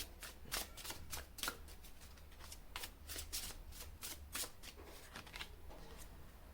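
Tarot cards shuffled and laid out, a rapid run of crisp riffling flicks and soft slaps, quiet and close, with no talking.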